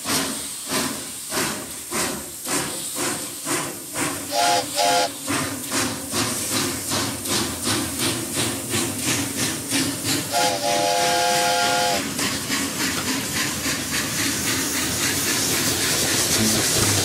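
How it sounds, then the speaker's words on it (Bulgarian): A whistle sound effect in a children's song about a fast train gives two short tonal toots over a bouncy, rhythmic musical backing, the second longer than the first. "Ето види свирка, весело подсвирква."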